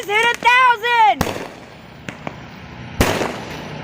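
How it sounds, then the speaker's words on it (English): Fireworks go off in a couple of loud, sharp booms with a few fainter pops between them, right after a person whoops and cheers excitedly. "Yes, fireworks!"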